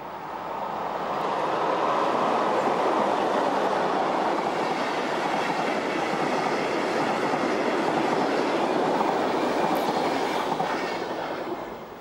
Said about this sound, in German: Die erste und auch einzige neurote 103 rollt über die Hohenzollernbrücke.